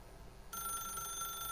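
A telephone rings in The Stanley Parable, a steady electronic bell tone that starts abruptly partway in and holds loud and clear to the end, with no talk over it.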